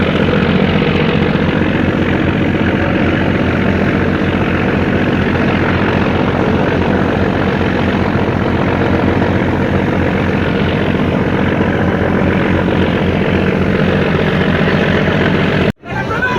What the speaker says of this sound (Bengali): একটা লঞ্চ দিয়ে আরেকটা লঞ্চ ধাক্কা দেওয়া হইতে আছে যাতে করে সুইটা যায়।